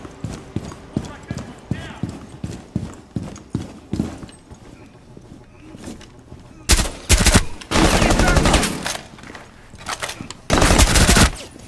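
Gunfire in the game Rainbow Six Siege: rapid regular footsteps or shots early on, then loud sustained automatic bursts up close, separated by short gaps, with game voices talking.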